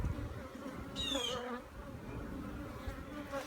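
A protective colony of bees or wasps under a shed, a faint continuous buzzing drone with one louder insect passing briefly close by.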